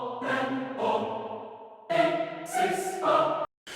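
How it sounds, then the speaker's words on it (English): The Lacrimosa choir sample library from 8Dio sings sustained choral tones. The chords shift, swelling to a brighter, fuller block midway, then cut off abruptly near the end. "Lacrimosa choirs from a company called 8Dio."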